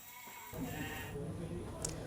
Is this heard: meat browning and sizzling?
no